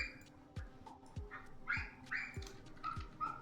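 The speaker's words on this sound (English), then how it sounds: "Oh hey, it's that dog again." A dog barks in the background, a series of about five short, evenly spaced barks, moderately faint, mixed with light chirping sounds.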